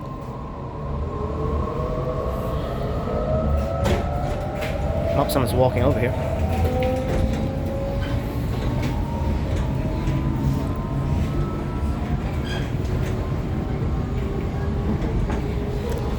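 Interior ride aboard a Sydney Trains T9 A-Train set, with a steady low rumble of wheels on track and rising and falling traction motor whine throughout, while a passenger speaks briefly near the mic.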